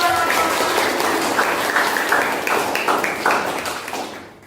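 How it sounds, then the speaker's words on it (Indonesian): Students in a classroom break into applause, a dense, steady run of many hands clapping together at close range, fading out near the end. "Tepuk tangan buat kita semua"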